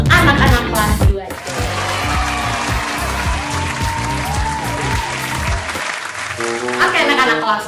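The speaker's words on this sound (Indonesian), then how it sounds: "Mari kita beri tepuk tangan yang meriah untuk anak-anak kelas 2." A classroom of second-grade children at a Jakarta elementary school claps for about eight seconds, loud and close, while several voices chatter and call out over the applause.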